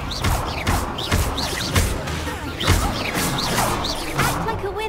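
Fire spell bursts in Hogwarts Legacy, the Incendio cast sounding as a string of loud whooshing crashes and thuds at a steady rhythm over busy game noise.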